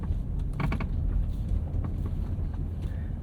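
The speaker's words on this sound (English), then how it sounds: "Something is sounding like it's falling off the door panel." Loose rattling and light clattering from the door panel inside a moving 2007 Mercedes-Benz SL550, a few quick bursts over a low steady road rumble.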